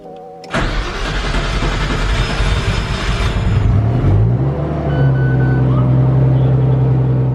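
A Nissan Skyline R32 cranks and fires on a first start, catching abruptly after a short quiet moment, then settles from a busy, rising roar into a steady, loud idle heard up close.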